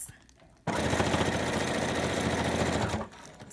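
A sewing machine runs in one fast, steady burst of stitching on a wig cap, starting abruptly and stopping after about two and a half seconds, close and loud.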